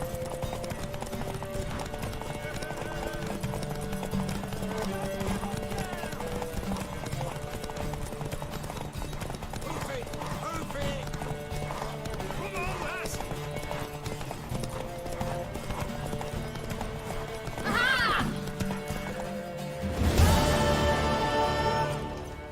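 A horse gallops in The Witcher 3 with steady, rhythmic hoofbeats over a bed of game music, ending in a sudden louder burst of noise.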